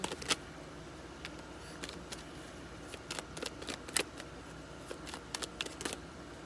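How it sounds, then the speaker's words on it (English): Soft, irregular flicks and riffles of tarot cards being shuffled by hand, quiet and nearby with no talking. "Last shuffle."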